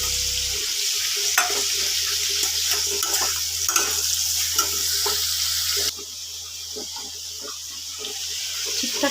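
Ridge gourd fries in a pan with onion and chili, a continuous close sizzle broken by scattered utensil clinks and stirring scrapes, with a slight shift in tone partway through.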